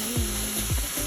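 Meat hits a hot pan of sautéed garlic, onion, ginger and shrimp paste for Bicol Express, crackling and sizzling loudly with two quick stirring scrapes over a steady fry.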